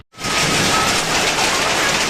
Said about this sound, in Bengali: দেখো আজকে কিন্তু শিলাবৃষ্টি হচ্ছে, এই দেখো শিল পড়ছে, এই দেখো কত শিল